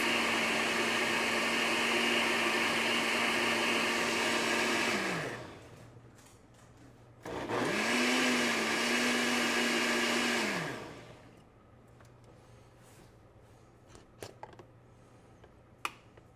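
A blender mixing tomato basil soup runs in two loud, steady bursts, each spinning down with a falling whine, separated by a short pause, then quiet kitchen clatter.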